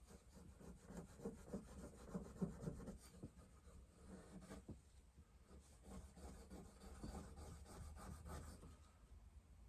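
Bees wax is rubbed by hand onto wood, giving soft, steady, close-up rubbing strokes at low volume with faint scratchy texture and no talking.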